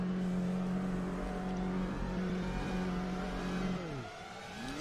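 A race car in a Formula-style racing game drones steadily with its engine note, then slows as it enters the pits, the pitch sliding down and fading to a quieter mechanical whir.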